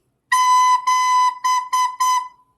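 Five separate notes on a recorder at one steady pitch, two longer ones followed by three shorter ones, clear and close with brief gaps between them.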